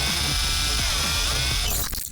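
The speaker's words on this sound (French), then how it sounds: "testant ma nouvelle scie Lego automatique qui fonctionne d'un simple clic" An automatic saw built from Lego cuts through a minifigure's head, making a loud, steady motorized whir for nearly two seconds before it trails off into rattling clatter.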